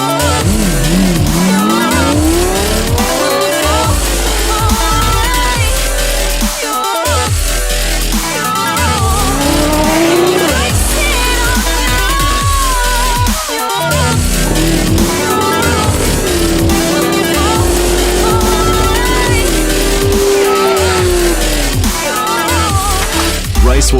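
Blue 1993 Toyota Supra race car with over 1,000 horsepower at a drag racing event, loud engine pitch rising and falling through gear changes, with tire squeal and skidding mixed among music and crowd noise.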